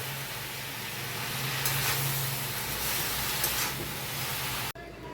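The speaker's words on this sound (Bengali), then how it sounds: "আবার খানিকক্ষণ ভেজে নিয়ে শাকের পাতাটা দিয়ে দিচ্ছি।" Spinach leaves frying in a pan, a steady dense sizzle and hiss that runs throughout and then drops away abruptly near the end.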